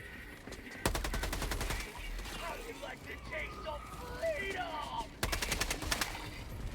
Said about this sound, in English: Careful with your fucking shooting, soldier.